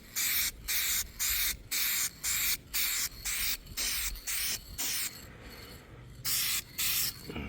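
Spray paint hisses onto a Monte Carlo's body in a backyard, in about ten short bursts of even length with brief pauses between and a longer gap near the end, loud and close with no talking.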